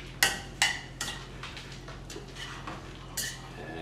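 Pasta carbonara tossed in a pan with egg and bacon fat, a few sharp metallic clinks of utensil against pan followed by softer scraping and stirring, close and fairly quiet.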